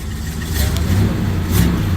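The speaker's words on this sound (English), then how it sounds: "With us, with Kevin cranking up the car and leaving." A little red Corvette's engine rumbles and revs as the car pulls out of a driveway, a steady low mid-pitched drone with two brief swells, moderately loud throughout.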